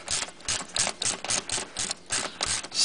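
Nuts on the underbody shield of a Ford Mustang GT being loosened, heard as a rapid ratcheting click train of about a dozen sharp, close, moderately loud bursts in quick rhythm, with no speech.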